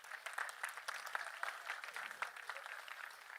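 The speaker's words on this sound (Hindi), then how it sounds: "मैं चाहता हूं गुलशन कुमार जी की स्मृति के लिए एक बार ये पूरा थिएटर तालियां बजा दे।" A full theatre audience claps together in tribute, a dense, steady wash of applause heard from within the crowd, moderately quiet, without talk over it.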